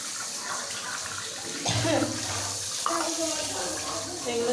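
Dishes are washed under a steadily running tap, with a continuous water rush broken by occasional clinks and splashes of handled crockery close by.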